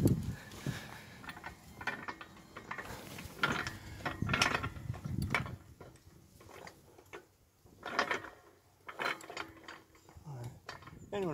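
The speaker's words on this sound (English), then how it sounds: "just keep this side extra secure then before I jack up the other side" A jack cranked to lift a VW T5.1 2.0 litre TDI van onto axle stands, giving repeated ratcheting clicks and mechanical clunks in bursts, fairly quiet and close, with no voices.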